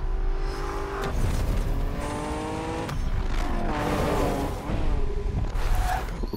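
Race cars roar and shift through gears in Need for Speed Payback, engines climbing in pitch with tire squeal and passing whooshes, loud and continuous throughout.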